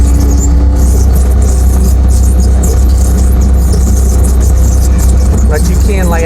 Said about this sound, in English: We rigged it up where we could use the skid steer to do it.